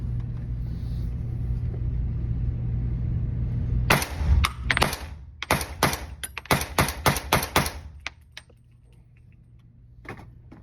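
Rapid series of sharp, loud gunshots from a PSA JAKL rifle in .300 Blackout firing SIG subsonic ammunition, about a dozen reports in quick succession over a low idling rumble, then quiet with a faint final thump.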